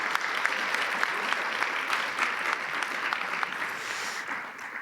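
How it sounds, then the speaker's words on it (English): Steady, dense applause from a conference audience welcoming diplomats at a Utah international trade relations event, continuous and even in loudness throughout with no talk over it. "Let's welcome all these diplomats with a round of applause."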